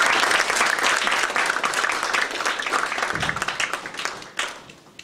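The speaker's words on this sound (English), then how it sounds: "Big round of applause." Audience applause fills a talk or presentation hall, a dense steady wash of many hands clapping that slowly thins and fades toward the end, with no voices over it.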